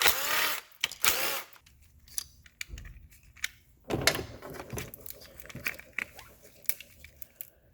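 Bolts come off the coil harness of a 2003 Toyota Corolla engine in intermittent bursts of ratchet clicks and small metallic clanks, close but fairly quiet, with short pauses between.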